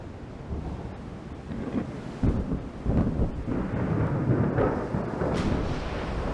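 Storm weather in the naval game Ultimate Admiral: Dreadnoughts, with rain and fog over early battleships: a steady, loud wash of rain and wind with rumbling thunder-like swells that rise around the midpoint, no voices.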